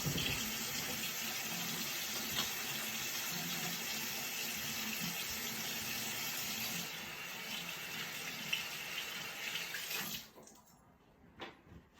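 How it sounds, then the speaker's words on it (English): Tap water runs steadily from a faucet as hands are washed in the sink, a continuous splashing rush that stops abruptly near the end, leaving near silence. "and then I'm gonna wash my hands"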